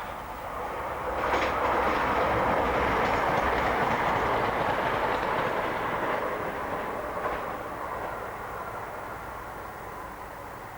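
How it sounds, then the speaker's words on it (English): An Anglia Railways Class 170 diesel unit passes close by, a broad steady rumble that swells after the first second, holds with faint clickety-clack from the wheels, then slowly eases as it moves away. "The introduction of Class 170 units has enabled Anglia Railways to reinstate through services"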